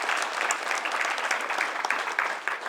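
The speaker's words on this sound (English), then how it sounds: "Please give yourselves a round of applause for coming out to spend time with them." Steady, full audience applause from a gathering honouring mothers and daughters, dense clapping at an even level throughout with no talk on top.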